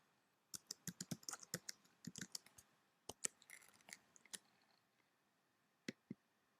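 Keys clacking on a computer keyboard as a login username and password are entered on a pharmacy compliance web portal, in short irregular bursts of crisp clicks with brief pauses, close and fairly quiet.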